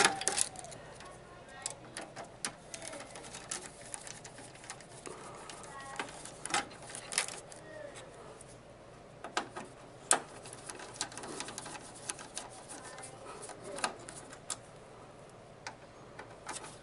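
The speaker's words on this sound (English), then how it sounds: "Undo the screws." Small screws being undone with a screwdriver on an HP LaserJet P2015 laser printer, heard as quiet, irregular ticking and scraping clicks scattered across the whole stretch, close and faint, with no talk over them.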